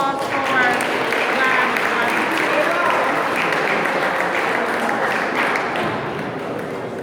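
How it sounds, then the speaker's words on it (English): An audience gives a round of applause: loud, continuous clapping from a crowd that holds steady and then eases off slightly at the end. "let's give a round of applause for John Washington."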